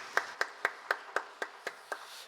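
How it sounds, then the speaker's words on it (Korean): A church congregation at a Sunday worship service claps in slow unison, eight evenly spaced soft claps, fairly distant and quiet. "우리 하나님께 영광의 박수 올려드리십시다"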